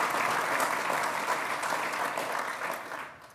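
An audience applauds at a Formula One fans' forum, steady broadband clapping from a crowd that holds for about three seconds and then fades out.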